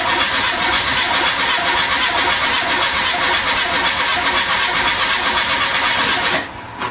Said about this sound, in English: you just see the woman trying to turn the car on